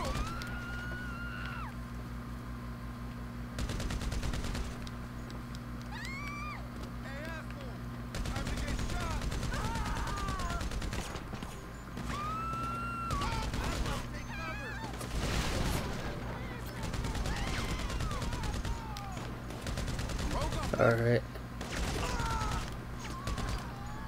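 Bursts of gunfire in GTA 5 crack out repeatedly during a rampage, loud volleys and rapid strings of shots separated by short gaps, with a voice talking between them.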